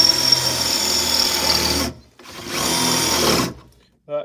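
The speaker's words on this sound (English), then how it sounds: "I'm gonna use a bigger drill bit." A power drill with a larger bit bores through the metal floor of a Ford Ranger truck in two loud, steady runs separated by a short pause, followed by a brief final burst.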